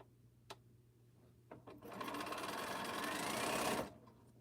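A domestic sewing machine stitching quilt blocks, a few small clicks and handling sounds, then a close steady run of fast stitching lasting about two seconds before stopping.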